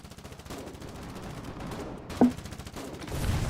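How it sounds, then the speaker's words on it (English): Gunfire in the Foxhole war game: bursts of distant rapid shots crackle under a steady battlefield rumble, with one louder crack standing out. "Oh, they're shooting at me."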